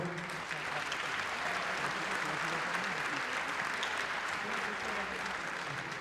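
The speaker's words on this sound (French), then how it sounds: "Je vous demande de l'applaudir à nouveau." An indoor crowd at a youth archery championship applauds an archery champion with sustained, dense clapping throughout.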